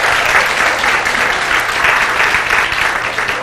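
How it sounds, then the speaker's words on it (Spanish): A church congregation claps together in loud, continuous applause, a thick, even wash of many hands that holds steady throughout. "Denle el aplauso al Señor."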